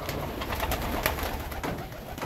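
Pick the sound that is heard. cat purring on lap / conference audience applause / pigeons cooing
pigeons cooing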